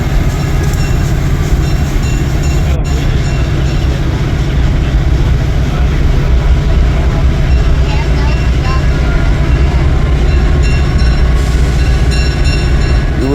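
A diesel locomotive idles and rumbles steadily at close range while running around a rail wye in Bridgeport, Alabama, a continuous low drone with faint rail noise throughout.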